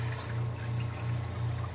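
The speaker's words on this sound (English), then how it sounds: "Water both drains and fills through those holes" A washing machine drains water through the ports in its drum, a steady pouring and trickling rush over a low mechanical hum, continuous and fairly close, with no talk.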